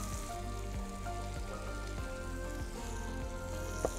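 Paris mushrooms sizzling and browning in a hot pan after salting, a steady close crackle with faint pops running throughout, no talk over it.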